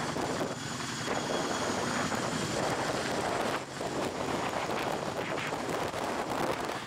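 A Columbia Helicopter Chinook hovers overhead while lifting logs, its heavy rotor wash roaring steadily and loud for the whole stretch, mixed with wind buffeting on the microphone.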